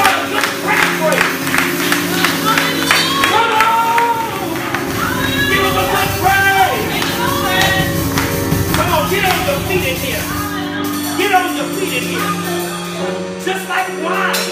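A church congregation claps along during a worship service, steady rhythmic hand claps under loud music and a preacher's voice, the crowd filling the room up close.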